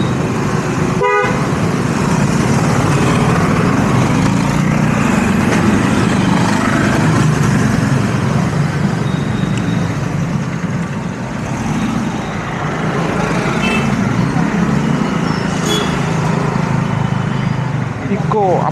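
A fully loaded Maruti Eeco van runs in busy roadside traffic near a fish market, with a steady engine rumble, a few short horn toots and other vehicles passing throughout. Voices can be heard faintly in the background.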